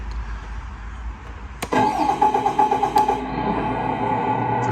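A 1/14-scale RC MAN truck's electronic sound system cranks its engine to life about midway, with a sharp start burst followed by a steady, rhythmic diesel-style idle that stays fairly loud and close.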